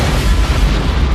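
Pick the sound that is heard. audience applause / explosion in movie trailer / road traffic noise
explosion in movie trailer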